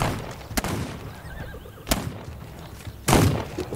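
A horse whinnies in the western survival game This Land is My Land, a thin cry set among sharp, loud bursts of gunfire or impacts in the outdoor game world.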